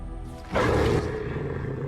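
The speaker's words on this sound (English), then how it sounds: "By a big bear and a bunch of wolves." A big bear roars during an ambush in the video game Dragon Age Origins, a sudden loud, growling roar that bursts in, peaks for about half a second, then tails off under game ambience.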